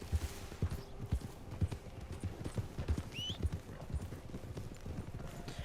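Horse hooves from a ride in the Red Dead Redemption 2 video game make a steady, close clip-clop at a brisk trot, moderately quiet, with a brief whinny partway through and no talking over it.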